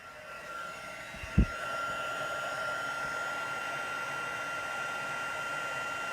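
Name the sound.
heat tool melting embossing powder for stamping craft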